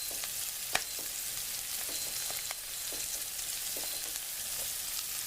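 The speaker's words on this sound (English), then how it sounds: "And then what we're going to do is we're going to saute this." Onions and garlic sautéing in a Cuisinart MSC-800 multi-cooker: a soft, steady sizzle with a few light clicks of stirring, fairly faint and without talk.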